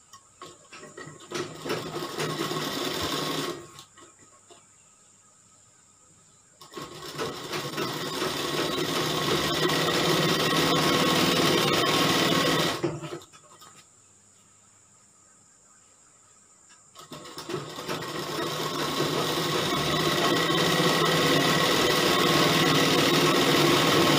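A sewing machine hums in long, continuous stitching runs on a kali gown, stopping twice for a few seconds of near silence before starting again.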